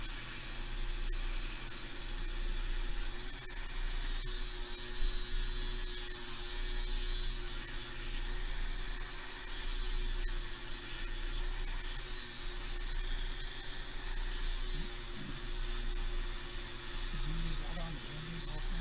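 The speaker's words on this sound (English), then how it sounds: "you will only be treated to the dulcet sounds of me sanding for a very short while longer" Sanding disc worked steadily against a surface, giving a continuous close grinding hiss that runs the whole time without a break.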